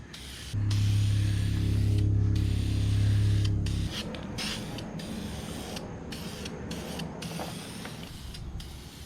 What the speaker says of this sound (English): For now I'm just going to go ahead and hit this with some primer.